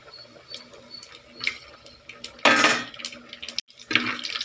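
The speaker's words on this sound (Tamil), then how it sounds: "கடுகு பொரியுது" Mustard seeds crackle and splutter in hot oil alongside fenugreek and dried red chillies for a dried-fish curry, with bursts of popping hiss that swell and drop off, plus a few utensil clinks.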